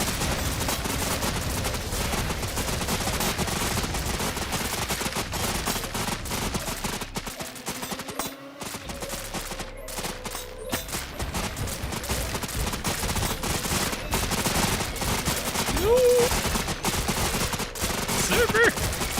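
Defensive towers firing guns in the tower defense game Gem Miner TD, a dense continuous barrage of rapid shots with no letup, loud and close, with faint game tones threaded through.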